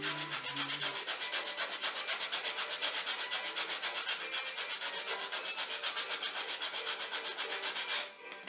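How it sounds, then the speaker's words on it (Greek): Rhythmic back-and-forth rasping of sandpaper on wooden Jenga-style blocks, dozens of quick even strokes, close and steady until a brief pause at the end. "Τρίβουμε μόνο τις επιφάνειες οι οποίες χρειάζονται τρίψιμο."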